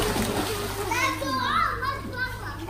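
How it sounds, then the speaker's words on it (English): Children diving into a swimming pool, splashing and churning water, with kids' voices talking and calling over it. "You were the first one into the water, but you're just diving straight into the water"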